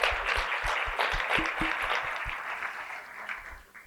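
An audience at a commencement ceremony applauds for faculty, staff and students, a dense, steady wash of clapping with some nearer distinct claps, fading slightly toward the end.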